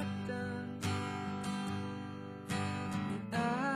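Acoustic guitar strums the chorus of a song in a steady pattern of ringing chords, played close and fairly quietly with no voice over it.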